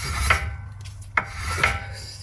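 A hand brake on a 2012-2018 Subaru Impreza rubbing against its brake shoes, giving three brief rasping scrapes spaced about half a second to a second apart over a low rumble, close and fairly quiet.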